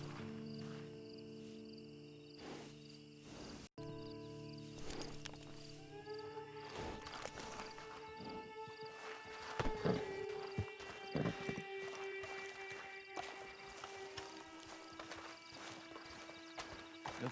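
Horse hooves clip-clop at a steady walking rhythm in Red Dead Redemption 2, moderately close, mixed with crickets and ambient game music and no talking.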